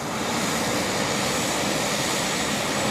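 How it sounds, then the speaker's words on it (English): A steady, loud mechanical roar of an aircraft auxiliary power unit at Boeing Field, continuous broadband whine and rumble with no change throughout. "Sounds like an APU"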